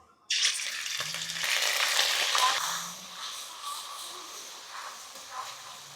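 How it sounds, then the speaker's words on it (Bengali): Spices, ginger and green chili paste hit hot oil with a sudden loud sizzle that stays strong, then slowly fades to a softer steady hiss with a few faint stirring clinks. "তেলের মধ্যে দিয়ে দিচ্ছি পাঁচ ফোড়ন আদা কাঁচা লঙ্কা বাটা"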